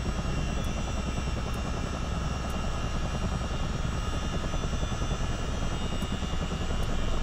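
CH-47 Chinook twin-rotor helicopter in Microsoft Flight Simulator, both engines running: a steady, dense turbine roar and rotor drone holds at constant loudness throughout, with no talk.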